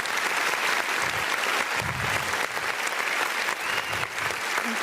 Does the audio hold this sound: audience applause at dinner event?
yes